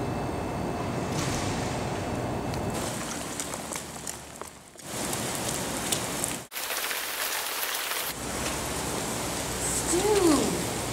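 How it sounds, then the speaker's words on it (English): Heavy rain pouring down outdoors, a dense steady hiss of drops on surfaces that cuts out abruptly a couple of times as the scene changes, with a brief voice near the end. "Stu! My gosh, it's pouring cats and dogs."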